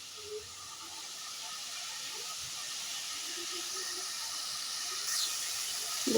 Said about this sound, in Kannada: 2 ನಿಮಿಷ ಫ್ರೈ ಆಗಲಿ ಇದು.